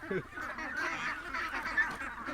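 Free-range meat ducks raised on a farm give a steady, overlapping chorus of nasal quacks and honks that carries on throughout, moderately loud and fairly close, with no talking.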